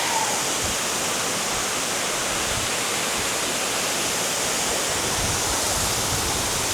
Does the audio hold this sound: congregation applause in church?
no